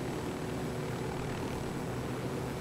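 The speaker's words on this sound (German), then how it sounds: "Der Helikopter will nicht so ganz, wie ich das möchte" A helicopter flies in the Ghost Recon video game, its engine and rotors making a dense, continuous roar that stays steady and fairly loud throughout, with no voices.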